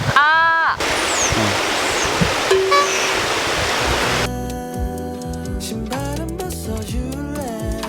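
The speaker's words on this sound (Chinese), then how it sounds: "已经看到瀑布了，有一点小震撼哎，比想象中厉害一点。" A waterfall on Jeju Island, South Korea, roars as a dense, loud rush of falling water for about four seconds before musical tones take over.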